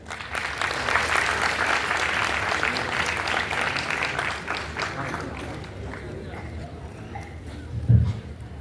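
Auditorium audience at a youth festival applauding panelists and a moderator onto the stage, with steady crowd clapping that gradually thins and fades, and a brief bump of noise near the end.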